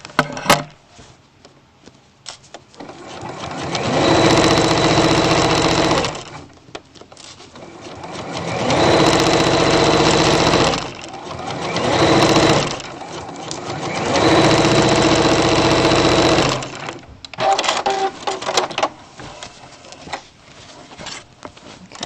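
A sewing machine stitches a skirt waistband at regular stitch length in three long, steady runs, loud and close, with short pauses and handling noise between bursts and no talk over it.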